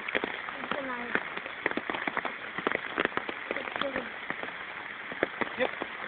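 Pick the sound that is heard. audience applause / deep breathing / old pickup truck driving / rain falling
rain falling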